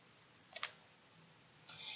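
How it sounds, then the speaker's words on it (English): Two quiet, crisp clicks of a computer mouse spaced about a second apart, close and isolated against near silence. "go ahead and click OK."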